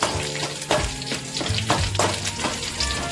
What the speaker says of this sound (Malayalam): രണ്ട് വറ്റൽമുളക് ചേർത്തു കുറച്ച് കറിവേപ്പില കുറച്ച് കറിവേപ്പിലയും കൂടി ചേർത്തിട്ട്